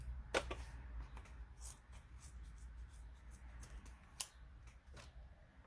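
Scissors snip off loose thread on a cork fabric zipper pouch after backstitching: a few faint, quick cuts spaced out over a quiet room hush.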